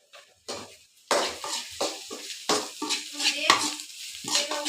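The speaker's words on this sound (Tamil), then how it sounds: "கடுகு, உளுந்து, பச்சை மிளகா, கருவேப்பிலை இதெல்லாம் போட்டு வதக்கிட்டு இருக்கேன்" Mustard seeds, urad dal, green chilies and curry leaves sautéing in a pan, heard as a series of close scraping stirs and metal clinks in uneven bursts over a light sizzle.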